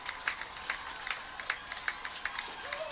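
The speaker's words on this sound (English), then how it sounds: "Crowd starts getting into it here at Crestwood High School." A crowd in the stands at a Crestwood High School football game claps in a steady rhythm with a low general murmur, fairly distant and moderate in loudness.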